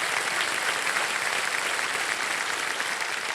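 Audience applause on the set of the KBC quiz show, steady and dense clapping from a full studio crowd filling the whole stretch without a break.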